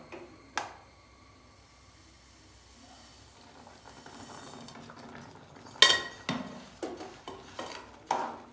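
Semolina being stirred into boiling milk and water in a pan for milk upma, with a quiet simmering hiss and then a run of sharp spoon-against-pan clinks and scrapes, close and irregular.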